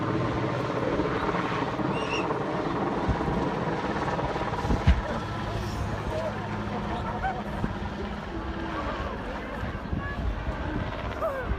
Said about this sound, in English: This helicopter dropping a car in Iceland.